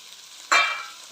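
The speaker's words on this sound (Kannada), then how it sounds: "ಇವಾಗ ಹಾಕಿದಂಥ ಕಾಳನ್ನ ನೀವು ಚೆನ್ನಾಗಿ ಎಣ್ಣೆಲಿ ಫ್ರೈ ಮಾಡಬೇಕಾಗುತ್ತೆ" Washed sprouted green gram tipped into hot oil, bursting into a sudden loud sizzle that peaks and then settles into a steady, softer frying hiss.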